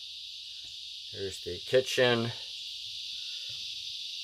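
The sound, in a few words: cicadas chirping in the woods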